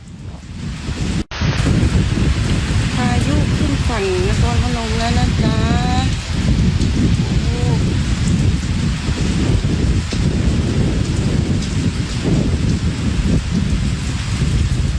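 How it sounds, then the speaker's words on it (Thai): Storm Soulik pours heavy rain over Nakhon Phanom, Thailand. A loud, unbroken roar of rain and wind buffeting carries low rumbles of thunder, and a voice is briefly heard through the downpour. "เมื่อวานเนี่ยฝนยังตกหนักเพิ่มที่นครพนมนะฮะ"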